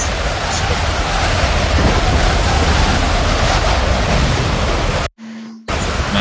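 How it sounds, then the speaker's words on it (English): Water rushing in The Sandbox video game, a loud, continuous broadband roar like surging surf that cuts out abruptly for a brief moment near the end before resuming. "Here comes the water."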